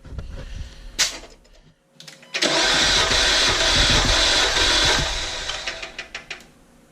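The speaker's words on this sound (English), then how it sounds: "I probably cranked it a little too long on that one because I couldn't hit the key" A Dodge Dart engine cranks during a compression test, with a few short starter bursts followed by a long, loud, continuous cranking run that fades out near the end.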